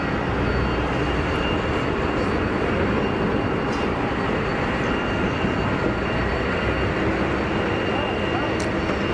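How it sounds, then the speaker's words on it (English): An Airbus A220 performs a touch and go at Geneva Airport, its jet engines roaring loud and continuous with a broad, steady rush throughout, while people talk over it. "Full on touch and go."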